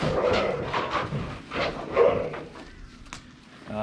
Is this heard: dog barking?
yes